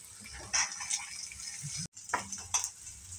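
A paste of green chilli, ginger and shallot fries in oil with soft sizzling, while a spoon stirs and scrapes the pan in short strokes, fairly faint and close.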